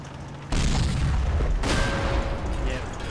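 Tank gun firing in the Combat Mission World War II game: a sudden loud boom followed by a second heavy blast and lingering rumble, close and dominant, with no talk.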